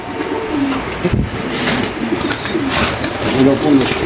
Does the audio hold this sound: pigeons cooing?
yes